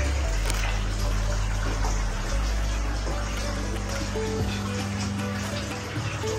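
Water runs and fills up in a washroom, a continuous rushing gush with a low steady rumble and faint trickles, close and fairly loud, no voices.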